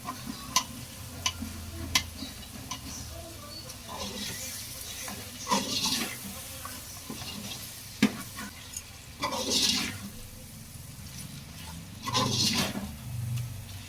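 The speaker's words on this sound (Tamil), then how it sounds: "அடி பிடிக்காமல் இருக்கிறதுக்கு தான் கரண்டியை வச்சு நல்லா இது பண்ணிகிட்டே இருக்கோம்" A ladle stirs biryani masala frying in oil, giving repeated metallic scrapes and clinks over a continuous sizzle, with faint voices in the background.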